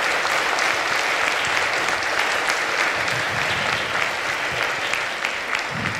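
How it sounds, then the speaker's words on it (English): Sustained applause from a debate audience at a Baptist school, dense steady clapping filling the whole stretch without a break, loud and close with no voices over it. "let's give a round of applause for our two presenters"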